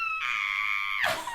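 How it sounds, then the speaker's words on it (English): A piercing, sustained scream from people shrieking like banshees holds one shrill pitch for nearly a second, then breaks into a ragged, noisy burst before trailing off. It is loud and close, with no talking. "I told you we should scream like banshees."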